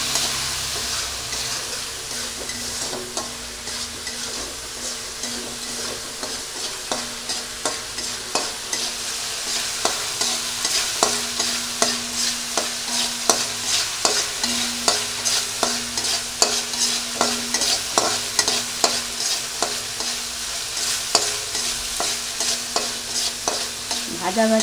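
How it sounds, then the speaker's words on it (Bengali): Spice masala thinned with a little water simmers and sizzles in a pan while a utensil scrapes and stirs in a steady, repeated rhythm, close and fairly loud, with no talk. "এবার আমি অল্প জল ঢেলে দিয়ে এখন মশলাটা একটু ফুটিয়ে নেব।"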